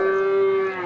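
A single cow lows at a village cattle market, a sustained steady tonal moo lasting nearly the whole moment, close and fairly loud with no talking over it.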